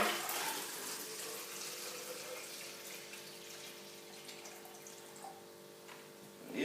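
Tap water running steadily into a green glass, a continuous hiss of flowing water with a faint rush that stays even for several seconds, heard alone without talk.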